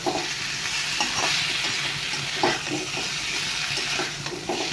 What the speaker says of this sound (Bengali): তো এখন ভালো করে কষিয়ে নিয়েছি